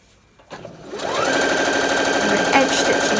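A sewing machine edge stitching a jacket starts up after a brief pause and runs in a fast, steady mechanical rattle, close and loud, with a person speaking over it.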